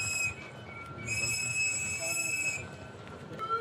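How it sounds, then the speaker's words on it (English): Sustained shrill whistles blown by anti-ICE protesters during an arrest, several overlapping tones from a middle distance over a street-noise background, swelling in bursts rather than coming as single blasts. "Those are whistles and warning signs that anti-ICE people are blowing to warn illegal immigrants that ICE is on the job."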